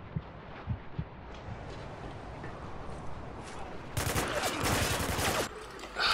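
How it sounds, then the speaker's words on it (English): Gunfire in Spec Ops The Line multiplayer, scattered distant shots early, then a loud sustained burst of rapid fire lasting over a second, with faint ambient noise between. "Who's shooting at me?"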